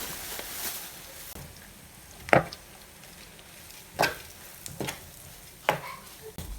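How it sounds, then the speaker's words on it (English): Egusi frying with onions while being stirred, a low sizzle broken by sharp, spaced spatula scrapes and taps against the pot, about every second or two, no voices. "So I just continue stirring the egusi to make sure"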